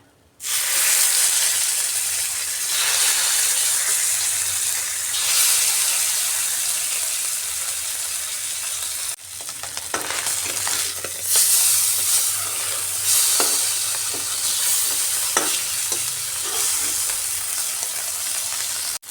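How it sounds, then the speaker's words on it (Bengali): Fish pieces frying lightly in a pan give a loud, continuous hissing sizzle up close, with a short break midway before the crackle resumes alongside occasional clinks and turning sounds. "একটু হালকা করেই ভাজছি মাছগুলো"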